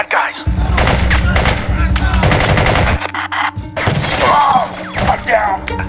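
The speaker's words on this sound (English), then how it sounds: "Taking fire, multiple bad guys." Sustained automatic gunfire in the video game Spycraft: The Great Game, loud and dense bursts of rapid shots with thuds and shattering impacts, pausing briefly midway before more firing, with voices under the action.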